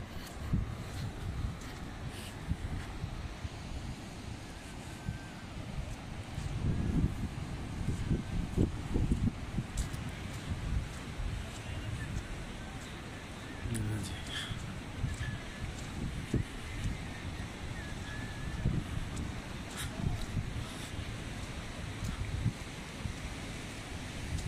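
River water flows in the forested Kumrat Valley, a constant broad rushing wash with gusty rumbles, steady and moderately loud outdoors with no talking.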